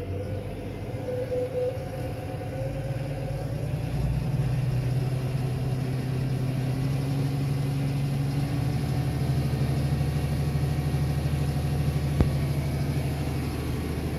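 Deutz tractor running with a seed drill and rotary harrow engaged, the engine's steady mid-low drone rising a little as the hand throttle is opened, then holding an even, continuous note close by.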